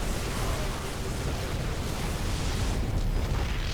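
Cannons being destroyed during a 3 vs 3 StarCraft II battle on Arakan Citadel, heard as a continuous, loud roar of blasts and explosions with no pauses.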